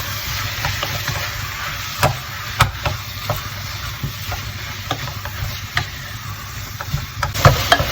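Chicken pieces for a yassa sauté in a hot pan, a steady close sizzle broken by scrapes and knocks of a utensil stirring and turning them.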